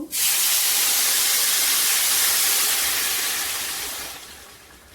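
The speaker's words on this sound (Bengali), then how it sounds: "চাল ভাজা হয়ে গিয়েছে গরম পানি দিয়ে দেব" Hot water hits fried rice in a hot pot for bhuna khichuri, setting off a loud, close burst of steam and hissing that holds for a few seconds and then dies away, with no talk.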